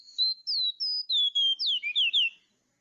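An unusual bird song recorded clearly: a series of about nine short, clear whistled notes, rising and falling, delivered in quick succession and then stopping, with no voices over it.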